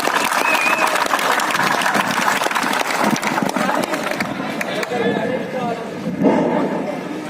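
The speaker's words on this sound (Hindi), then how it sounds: "प्रदेश अध्यक्ष भाई पृथ्वीराज मोदी साहब का जोरदार तालियों के साथ में स्वागत किया जाए।" Loud crowd applause and cheering at an electricity workers' protest rally, welcoming the state president; dense sustained clapping runs throughout the clip, with voices mixed into the crowd noise.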